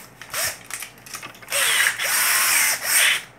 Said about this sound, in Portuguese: Deixa eu pegar a minha furadeira aqui.